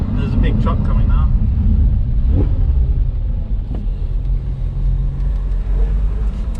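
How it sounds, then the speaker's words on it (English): A big truck rumbles past on a narrow country lane, heard over the steady engine and wind noise of an Audi R8 V10 with its roof down, with a voice talking throughout. "There's a big truck coming now."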